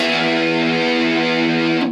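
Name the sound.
electric guitar solo played with heavy distortion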